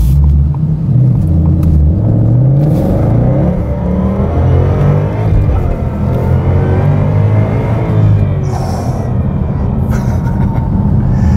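A 710-horsepower 2019 Roush Stage 3 Mustang engine roars steadily as it accelerates hard, a loud, continuous rumbling growl with rising revs throughout.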